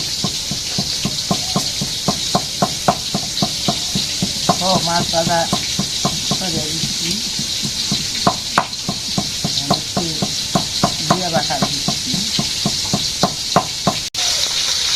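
Food frying in a pan for a home-cooked meal: a steady sizzling hiss runs throughout while a utensil knocks and scrapes the pan in a quick regular rhythm, close by, with a voice speaking briefly in between.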